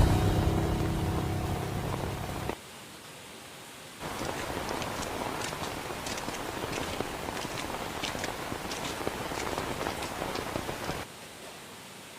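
Steady rain hisses through a fight scene in a TV drama, a dense wash of falling water with brief drops in level and faint scattered impacts, continuous and fairly loud.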